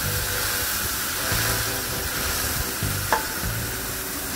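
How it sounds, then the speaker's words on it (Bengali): Masoor dal sizzles in a hot tempering of fried onion and garlic, a steady hissing fry with a low rumbling bubble underneath. A single brief clink sounds near the end. "এবার আমি ডালটা ফোড়নের ভিতরে ঢেলে দিচ্ছি"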